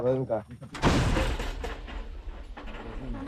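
A heavy booming blast from a Ukrainian border guard artillery gun, deep and close, with a voice shouting a fire command just before and talk continuing after.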